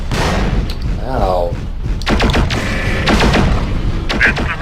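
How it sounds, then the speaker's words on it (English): Explosions and weapon fire boom loudly in the Mechwarrior 4 Vengeance video game, with a dense roar and repeated cracking blasts, someone speaking and crying out over the din. "I know that explosion radius there."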